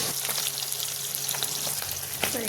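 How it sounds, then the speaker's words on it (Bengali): Fish frying in hot oil in a home kitchen, a continuous crackling sizzle with scattered sharp pops and spits, steady and close, with no voices. "এখানে মাছ ভাজা আমার হয়ে গেছে"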